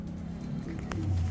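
A black female Kalibagha pigeon gives a short, soft, low coo, close by and brief.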